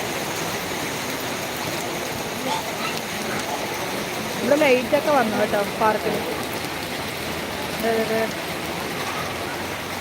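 Rain falls steadily at night in a park, a soft, continuous wash with occasional drips, while a person talks over it in the middle and again near the end.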